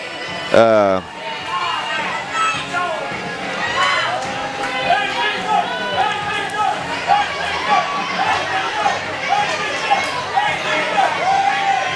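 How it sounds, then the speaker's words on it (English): A wrestling event crowd reacts coldly to a wrestler's entrance, with loud sustained jeering and scattered shouts from a packed arena filling the whole span. "But this crowd is not giving Ace Armstrong a warm reception."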